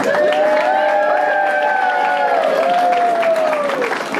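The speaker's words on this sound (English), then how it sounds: "Once again, ladies and gentlemen, a round of applause for Kelly, our matron of honor and sister of the bride" Wedding guests at a beach reception applaud the matron of honor, a steady crowd clapping with a drawn-out voice or cheer rising and falling over it.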